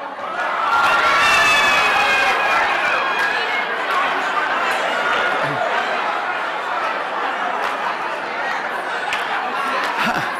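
A roomful of seminar attendees greet one another, making a dense, loud and steady chatter of many overlapping voices with laughter and excited calls, sustained throughout.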